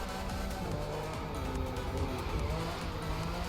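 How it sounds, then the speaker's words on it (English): A car drifts in The Crew 2 with its tires squealing, the continuous engine roar and screech of rubber sustained loud and close throughout without a break. "Massive drifts here."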